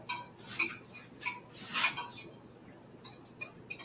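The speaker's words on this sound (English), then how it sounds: "Let me stir this up and show you." A homemade Thanksgiving dish gets stirred in a pot on low heat, a spoon scraping and clinking against the sides in a few soft, separate bursts with quiet pauses between, close by with no talking.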